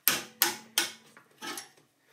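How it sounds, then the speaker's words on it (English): Automatic ratchet on a 2008 Club Car DS gas golf cart snugging bolts, giving four or five close, sharp metallic clicks in quick uneven succession, heard alone. "one thing that's really nice about having an automatic ratchet for doing this kind of work"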